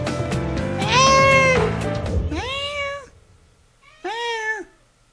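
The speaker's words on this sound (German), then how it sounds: "Das war mein Kater." A cat meows three times, close and clear: a long rising-falling cry, then two shorter meows separated by a brief pause, alone with no talk.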